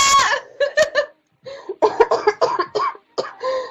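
A girl coughing repeatedly in close, loud bursts, clustered hacking coughs with short pauses between them and a faintly giggly edge, heard alone without talk.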